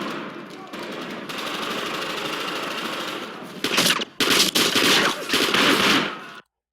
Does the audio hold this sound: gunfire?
yes